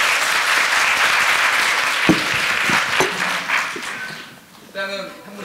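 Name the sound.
applause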